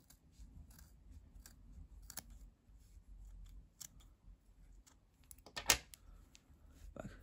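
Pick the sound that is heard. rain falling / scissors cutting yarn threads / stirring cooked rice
scissors cutting yarn threads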